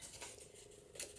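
Scissors cut through paper while making a junk journal pocket, a short crisp snipping with a couple of quick cuts, the last one sharpest, close and fairly quiet.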